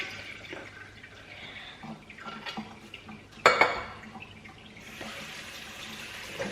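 Canned beans and olives draining in a colander at a kitchen sink, a steady soft trickle of liquid with a brief louder splash and clatter midway, no talking.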